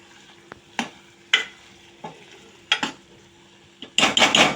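Jackfruit keema masala fried on a low flame: a faint, quiet sizzle broken by a handful of separate spatula scrapes against the pan, then a louder burst of stirring and clatter at the close.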